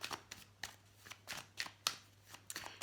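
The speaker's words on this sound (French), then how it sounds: "Je vais encore tirer 2 cartes pour le tirage général" Tarot cards being shuffled and drawn, a run of crisp riffling and snapping bursts repeating in an uneven rhythm, close and fairly quiet with no voices.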